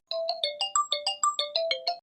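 A mobile phone ringtone plays a quick, bright electronic melody of about a dozen evenly spaced notes, clear and close with no voices.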